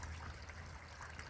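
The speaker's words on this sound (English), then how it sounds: "Water's flowing pretty quick now." Creek water flows quickly near a cabin deer camp, a steady broadband rush with a low rumble, close and continuous with no voices.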